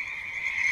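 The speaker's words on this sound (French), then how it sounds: "Un croassement de grenouilles ou de crapauds." Croaking frogs or toads used as a telephone ringtone, a steady, fairly loud trilling croak that runs throughout and swells slightly toward the end, with no talking.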